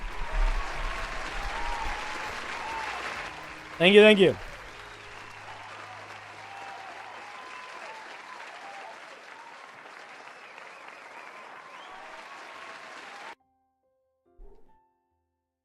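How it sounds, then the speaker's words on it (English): An audience applauds steadily for about thirteen seconds after a round of applause is called for at a D&D homebrew gathering, with a brief spoken thanks partway through before the clapping stops. "Let's give them a round of applause."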